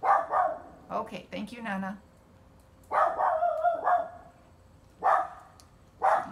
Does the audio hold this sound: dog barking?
yes